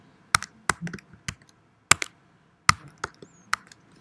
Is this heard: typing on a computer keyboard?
yes